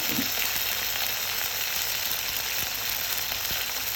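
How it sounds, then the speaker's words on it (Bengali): Onion and green chili sizzling in hot oil for a tempering, a steady dense hiss with faint crackles, close and uninterrupted by speech. "এখন ফোড়নের জন্য কিছুটা পেঁয়াজ কাঁচামরিচ দিয়ে দিল।"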